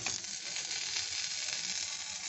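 Kabab snacks fry in hot oil, giving a steady, dense sizzle that stays even and fairly close throughout with no voices.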